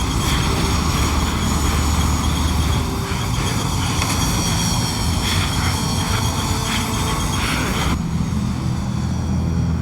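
A DHL cargo plane's engines roar in a loud, steady drone that fills the whole stretch, shifting slightly in tone near the end, with no voices.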